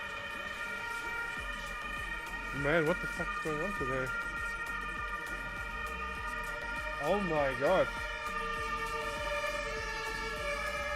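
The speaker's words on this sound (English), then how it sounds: "That's a lot of ambulances." Several ambulance sirens wail in the distance with rising and falling tones, steady and continuous under someone talking nearby, with a constant electronic hum in the background.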